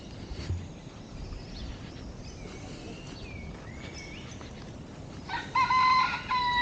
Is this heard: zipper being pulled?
no